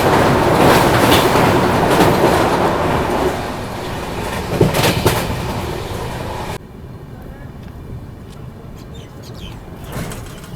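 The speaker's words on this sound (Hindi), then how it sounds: "तो अभी अपनी ट्रेन पहुंच चुकी है धौलपुर जंक्शन रेलवे स्टेशन" Mahakoshal Express rolling into Dholpur Junction station, heard from inside the coach as a continuous rumble and clatter of wheels that drops sharply in level partway through as the train slows.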